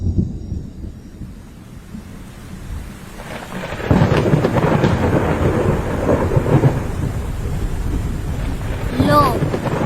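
Rain pours steadily while low thunder rumbles, growing louder partway through; a faint voice is briefly heard.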